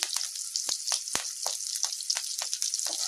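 Green chillies and curry leaves sauté in a hot pan, giving a continuous bright sizzle and crackle punctuated by sharp pops and stirring clicks, close and alone.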